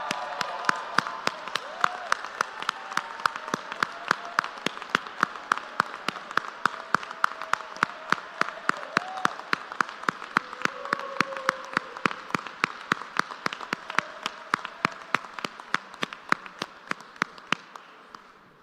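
A crowd at a ribbon cutting ceremony gives Miss Tammy Garvin rhythmic, unison clapping, sharp regular beats for nearly twenty seconds over faint background chatter, tapering off at the end.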